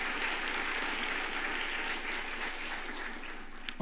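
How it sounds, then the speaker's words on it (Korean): A church congregation at a Sunday afternoon service claps in a steady, moderate wash of applause, evenly sustained, with a brief sharp knock near the close. "박수 해야 될 것 같습니다."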